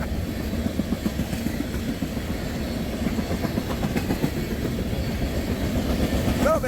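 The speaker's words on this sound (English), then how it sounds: "We got a garbage train." A CSX garbage train rolls past on the railroad, its steady rumble and rhythmic clickety-clack of wagons continuous throughout, fairly close and loud, with a brief squeal near the end.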